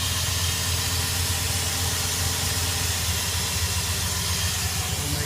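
The engine of a 2002 Dodge Dakota with about 120,000 miles idles smoothly, giving a steady, loud hum mixed with a broad, hissy wash that holds constant throughout, with no voices.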